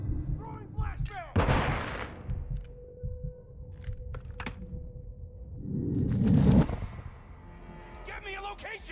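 A flashbang grenade goes off in Modern Warfare 2 with a loud, broad burst, followed by a long steady ringing tone and thudding low rumble. Muffled voices speak around it.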